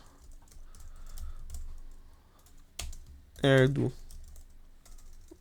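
Typing on a computer keyboard with a Portuguese layout while coding, a steady run of close, light key clicks, briefly interrupted by a short spoken word.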